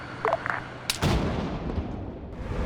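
BMP autocannon firing in ArmA 3: a couple of faint distant thumps, then one heavy booming shot with a long rumbling tail.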